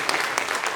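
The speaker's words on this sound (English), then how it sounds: "If you agree, you can clap." Members of an HR conference audience clap in agreement, a brief dense burst of many hands heard up close.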